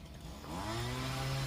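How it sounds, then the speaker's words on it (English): A leaf blower pushes fallen leaves toward the middle of a backyard lawn for mulching while snow falls, its motor rising from a lower whine to a steady, loud, close drone that holds to the end. "That's all I'm really doing with the blower."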